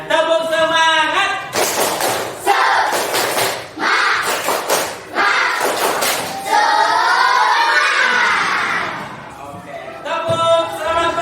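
Classroom group doing tepuk semangat, a rhythmic chant-and-clap routine, with bursts of sharp claps in patterned clusters alternating with a voice leading and voices chanting.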